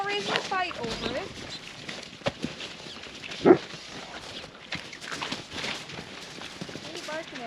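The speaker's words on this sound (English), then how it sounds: "What are you barking at?" A dog on a farm barks around the kidding stalls, with one sharp bark standing out midway over steady background shuffling and a murmur of voices.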